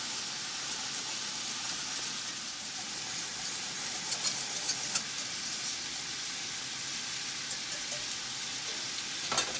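Shepherd's pie filling boiling in a pan, a steady close bubbling hiss with scattered small pops and sputters, continuous throughout with no voices.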